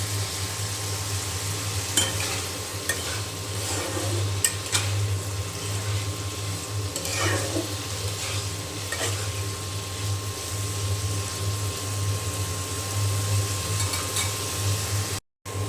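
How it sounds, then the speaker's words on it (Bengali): Potatoes and snake gourd frying in a pan give a steady, close sizzle with occasional stirring scrapes, continuing evenly throughout with no talk. "চিচিঙ্গা দিয়ে আলু ভেজে নেওয়া হয়ে গিয়েছে"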